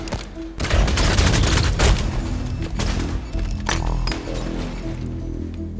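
Grenade explosions and gunfire in the Halo 5 beta multiplayer, a loud burst of blasts and rattling shots up front followed by scattered thuds and clinks that continue steadily to the end.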